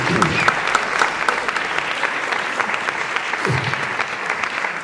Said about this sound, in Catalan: un fort aplaudiment pel Gonzalo Herralde i Grau, que ha fet tot el muntatge visual